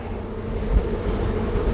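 A honeybee colony buzzes in a dense, steady drone during a hive inspection, close and continuous with a low rumble of handling underneath.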